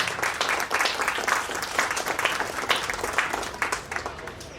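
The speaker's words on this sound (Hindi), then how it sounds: "please clap" Sustained applause from a crowd welcoming a special guest at a play school's Independence Day celebration, many hands clapping steadily and fairly loud for several seconds with no talk over it.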